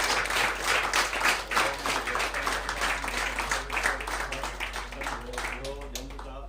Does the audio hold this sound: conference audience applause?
yes